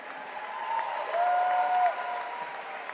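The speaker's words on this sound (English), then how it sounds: "let's get another big round of applause for these 2 fighters" Applause and cheering from an arena crowd for two fighters after an MMA cage bout, a sustained roar of clapping that swells in the middle with a faint whistle on top and then eases off.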